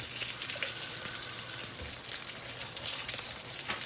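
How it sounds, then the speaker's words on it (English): A steady stream of hot water pours and splashes continuously into a chemical ice pack at close range, hissy and unbroken throughout. "I'm going to add a little bit of hot water to it."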